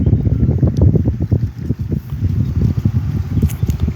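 Steady wind buffets the microphone with low rumbling gusts, loud and continuous throughout.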